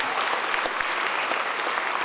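Steady, dense clapping from a convention audience for a cosplay group at Istrocon 2012, a continuous even patter of many hands with no break.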